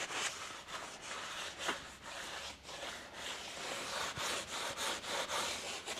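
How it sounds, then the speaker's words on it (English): Brake disc on a Toyota Hilux LN167 being wiped down with a cloth after a spray of brake cleaner, giving steady close rubbing and scrubbing strokes with short wiping bursts. "I like to give the brake disc a good clean with brake clean, and wipe it all down"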